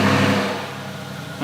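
A tuned, remapped Audi RS6 engine turns over and catches with a loud, deep roar that eases into a rumbling idle, followed by a brief bump near the end.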